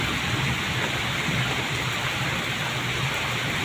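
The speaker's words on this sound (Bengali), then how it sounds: "তো রাত্রে এখন প্রচুর ঝড় হচ্ছে, সেই সঙ্গে বৃষ্টি।" Heavy rain pours steadily through a night storm while traffic sits jammed on the road, a dense, continuous roar of falling water with no break across the whole stretch.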